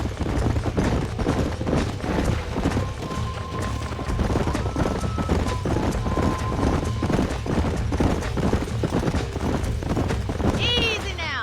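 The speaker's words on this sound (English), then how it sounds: "These are fine horses." Horses in Red Dead Redemption on Xbox One trotting with a steady rhythmic clip-clop of hooves throughout, fairly close, under people talking, with a brief whinny near the end.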